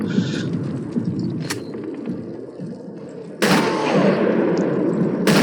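Sharp blasts burst out of a rumbling Sniper Elite game soundscape, one short crack early and a loud sustained boom midway, followed by another crack.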